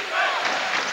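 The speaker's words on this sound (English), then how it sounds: "Chant of defense from the crowd at Pauley." A college basketball crowd at Pauley Pavilion during a 1989 Arizona Wildcats at UCLA Bruins game roars in a loud, sustained arena chant of defense.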